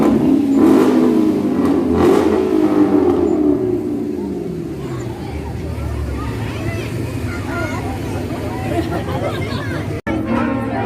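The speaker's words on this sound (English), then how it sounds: "Here comes the muscle cars." Muscle cars drive past in a loud, rumbling engine roar that swells and slowly fades, with a crowd murmuring and voices chattering underneath.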